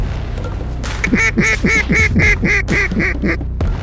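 Ducks on a public-land duck hunt give a rapid run of about nine loud, close quacks in a steady rhythm, with a dog nearby and steady low background noise.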